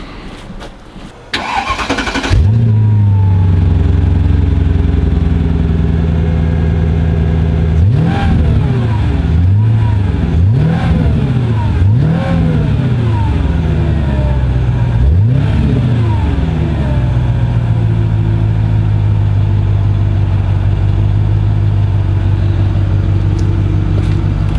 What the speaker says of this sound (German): Hört sich auch gut an. Schöner, dumpfer Sound. Supersport-Abgasanlage, ne?